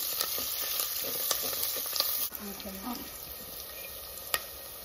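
Green chilies, garlic, dried chilies and curry leaves fry in hot oil, producing a quiet, steady sizzle with a few scattered pops and light stirring taps, close by and unaccompanied by speech.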